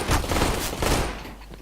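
Gunfire in the Counter-Strike video game during an ESEA Open League match, a short dense burst of overlapping shots lasting under two seconds, loud and close.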